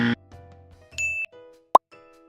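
Chime tones and a plop from a Xiaomi Redmi Note 7 or Samsung Galaxy S8 Plus set on a wireless charging base: several clean, ringing electronic notes with short gaps, then one sharp, loud plop near the end.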